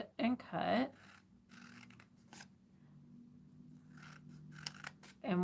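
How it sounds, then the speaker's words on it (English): Scissors snipping along score lines in paper for Christmas party favors, a few close crisp cuts and rustling paper, with a voice talking over parts of it. "So we're gonna cut and cut and cut and cut."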